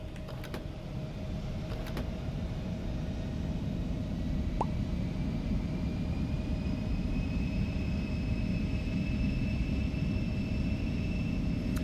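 In a flight simulator, the jet engines of an E-Jet airliner spool up for takeoff, with a steady low roar and thin whining tones slowly rising in pitch. A couple of faint clicks sound early on.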